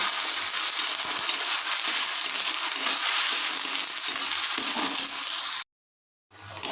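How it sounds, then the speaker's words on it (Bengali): Pointed gourd peels stir-fried with garlic and green chili in a pan, a steady close hiss of frying with soft stirring scrapes that cuts off abruptly near the end, no voices. "ভালো করে এটা নেড়ে নেড়ে ভাজা করে নিতে হবে"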